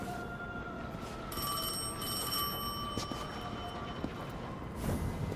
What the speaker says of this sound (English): Your phone ringing. Oh, it actually is.